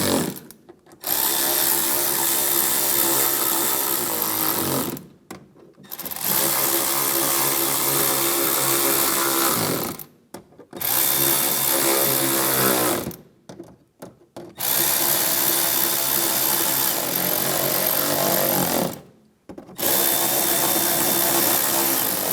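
A cordless power drill drives bumper screws on a 2015-2019 Lincoln MKC in several long bursts, each a loud, close whirring buzz separated by brief silences.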